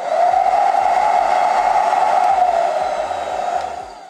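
A Hot Tools hair dryer running on its second level, a steady loud whooshing airflow with a mid-pitched whine, close and continuous, easing slightly toward the end.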